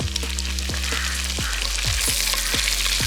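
Tomatoes frying in a pan for a Jaffna-style cuttlefish devil, giving a steady loud sizzle with a few stirring scrapes and knocks across the whole stretch, no talking.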